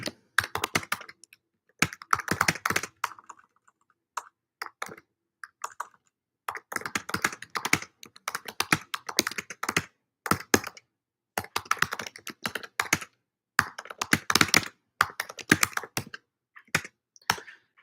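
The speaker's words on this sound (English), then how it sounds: "So I'm going to just type that into the chat." Fast, close typing on a computer keyboard, dense bursts of key clicks separated by short pauses, with no talking.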